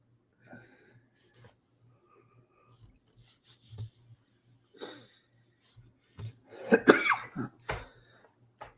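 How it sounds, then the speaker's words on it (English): A person coughs several times in short, scattered bursts against a quiet background, the loudest coughs clustered toward the end. "I can't stop coughing."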